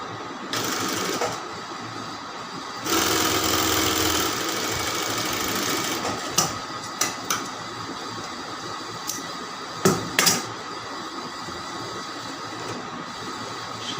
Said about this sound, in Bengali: আগে জোড়াটা সেলাই দিয়ে নেবেন।